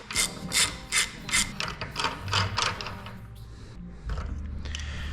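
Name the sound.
ratchet loosening Sterling 10.5 axle hub nut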